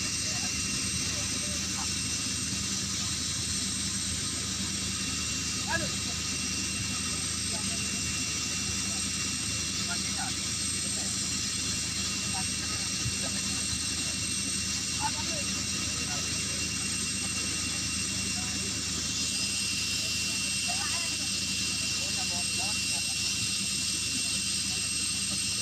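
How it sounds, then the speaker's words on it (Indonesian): A US Army Black Hawk military helicopter, one of four prepared for flight, gives off a steady distant rotor and engine drone under faint ambient noise. "ada pesawat Black Hawk namanya, pesawat tempur dari US Army."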